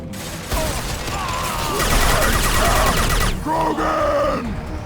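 Heavy gunfire erupts in a Mass Effect 2 firefight, with a loud continuous rattle of shots under shouting voices and a groaning cry over a few seconds.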